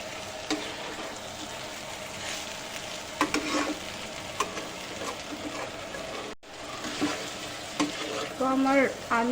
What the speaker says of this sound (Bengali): মশলা আলু আর পটল দিয়ে আমি বেশ 2-3 মিনিট মতন কষিয়ে নেব।